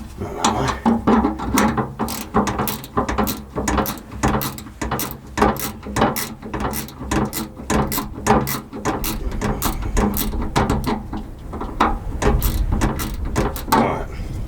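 A ratchet is worked under a Talbot Express van to tighten the handbrake: a long run of quick, close metallic clicks in steady strokes with brief pauses, loud and alone.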